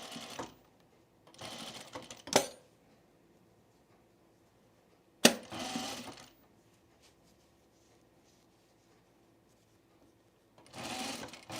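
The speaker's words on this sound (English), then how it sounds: "Now I'm just sewing pocket to pocket right now." A home sewing machine stitches the pockets of a pre-quilted Tamarack jacket together in short separate bursts of rapid whirring, with quiet pauses between runs.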